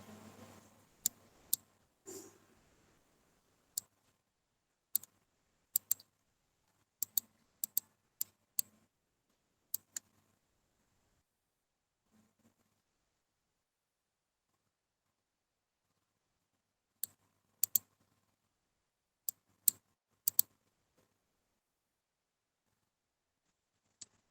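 A computer mouse clicking and dragging while working in Tally accounting software: sparse, sharp, isolated clicks, sometimes in quick pairs, separated by long stretches of near silence, close and quiet, with no talking.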